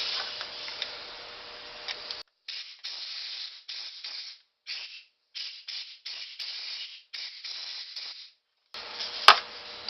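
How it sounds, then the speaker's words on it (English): Bursts of compressed air sprayed through a Harley-Davidson Sportster CV carburetor during cleaning hiss in short, irregular blasts with brief silent gaps, close and fairly loud. "So now we'll spray in air in it again."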